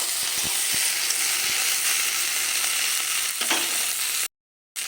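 Food frying in a pan, potato cooked in oil rather than boiled, giving a steady close sizzle with a few stirring knocks, cutting off abruptly near the end.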